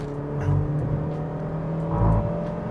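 A 2023 Mazda CX-3 Sport Luxe with a 2.0 litre petrol engine accelerates on the road, its engine hum swelling twice in short surges over steady road and wind noise heard from inside the car.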